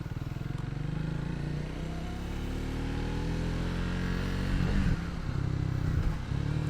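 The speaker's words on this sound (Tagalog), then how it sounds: "Grabe yung gaang ng motor talaga guys" Triumph Trident 660 motorcycle engine revving at a moto heritage weekend: a loud, close, rough engine roar that holds steady, then surges briefly, with some clatter and no talking.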